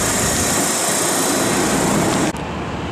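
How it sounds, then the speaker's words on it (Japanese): A continuous loud engine and rolling roar of a hybrid diesel railcar underway, its diesel engine generating power to charge batteries, on a rapid train on the Senseki Line, Japan; the level drops abruptly near the end. "要するにハイブリッドディーゼルカーです"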